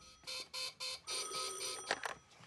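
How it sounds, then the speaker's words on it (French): A red telephone ringing, an electronic ring in short repeated bursts, close and clear, followed by a brief clatter. "Edmond, c'est le téléphone rouge."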